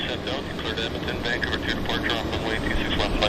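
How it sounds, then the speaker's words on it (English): A Summit Aviation Avro liner jet makes a steady, rumbling engine noise with a higher whine above it, heard at moderate distance while a person talks over it. "back to our Avro liner. Summit Aviation, heading to Masset."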